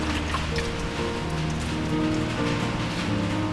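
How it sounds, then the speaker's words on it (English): Steady rain falls at a rural homestead, a dense pattering on surfaces with drips mixed in, continuous and close with no talking. "You know, it's raining out here today."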